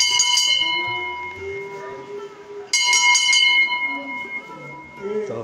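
A temple bell at the Kali Mata temple at Aror in Sindh, Pakistan, struck twice and ringing out with long, bright, sustained tones while someone talks over it.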